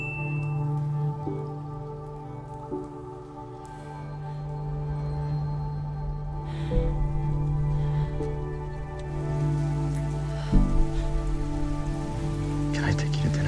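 Rain falls steadily in a dramatic TV scene, a continuous patter of drops mixed with a sustained low musical drone and occasional soft thuds throughout.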